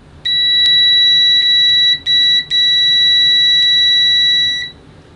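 A JIMI JM-G3401 multimeter in continuity mode gives a loud, shrill electronic beep, a steady high tone broken by a few brief gaps and lasting several seconds, heard close up and alone.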